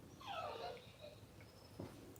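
A dog whines and whimpers in faint, high, drawn-out cries that slide downward, followed by a short breathy whimper, quiet and somewhat distant.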